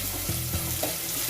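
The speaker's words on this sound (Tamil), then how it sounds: "இதை லைட்டாக வதக்கிக்கோங்க." Crushed garlic sautés in a pan for South Indian tomato soup, a loud, close, steady sizzle with a few soft thuds and scrapes of stirring, no one speaking.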